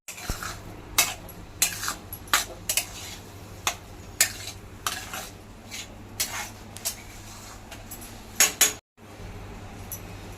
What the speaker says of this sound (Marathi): गुळ खोबरं हे आपल्याला एकजीव करून घ्यायचं